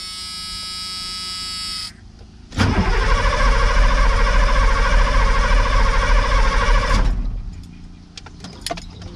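After a brief steady buzz, a diesel truck engine with a retrofitted direct-drive starter cranks over loudly with a rapid rhythmic churning for several seconds on a cold start, then stops and leaves faint clicks.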